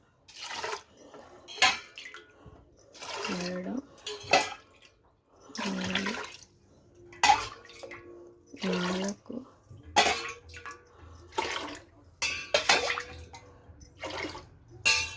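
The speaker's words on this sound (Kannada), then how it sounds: "ಎಂಟು ಲೋಟ ನೀರು ಹಾಕೋಣ" Water is poured from a tumbler in several short bursts into a pot of rice, with splashing and clinks between pours, while a person talks intermittently.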